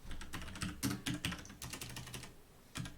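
Rapid, close keyboard typing with uneven bursts of clicking keys and brief pauses between them, fairly quiet.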